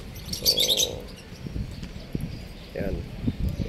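Birds, including doves, chirp and coo around an outdoor lot, a bright chirping burst followed by faint calls, with a person talking nearby.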